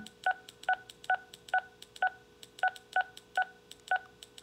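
Keypad tones from entering numbers on a DMR CS 580 UHF radio: about ten short, evenly spaced dual-tone beeps, quiet and close, with no talking.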